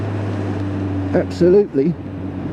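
A Kawasaki Z1000 SX sports tourer with an aftermarket exhaust system holds a steady, low engine drone from start to finish, while someone speaks a single short word partway through.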